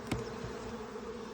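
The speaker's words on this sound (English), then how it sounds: "You can see there's some bee activity in there, a little bit, not much, but we'll smoke in here a little bit" Bees buzz steadily around a hive being smoked during a split, a continuous close insect drone with a brief louder swell near the start.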